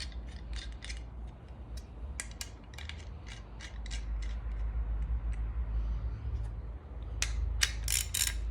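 A ratchet is cranked down during an aftermarket install, giving repeated quick clicking bursts at an irregular pace that are close and fairly quiet, with a dense flurry at the end.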